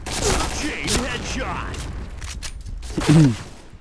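Bursts of video game gunfire crackle amid chaotic game sounds, with a voice talking over them and a louder sharp burst near the end.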